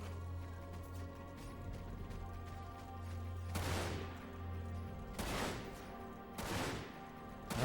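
Gunfire from the game Dirge of Cerberus: Final Fantasy VII as the player shoots at animals, with a few loud bursts of shots over a steady low hum of game music.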